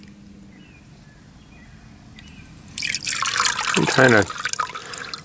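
Water rinsing a chain coral fossil after acid treatment, starting as a loud splashing gush with dripping and trickling underneath, following a quiet stretch with brief talk.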